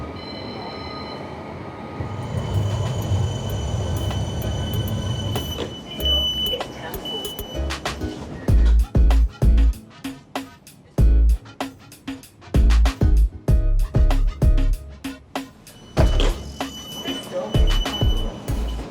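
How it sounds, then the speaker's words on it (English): A West Midlands Metro tram rumbles in and slows at a stop, with rhythmic clacks of wheels over rail joints, a brief squeal and mechanical thuds as it arrives. "So we'll wait for the tram and we'll get on it."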